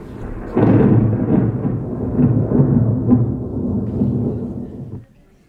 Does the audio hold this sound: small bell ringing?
no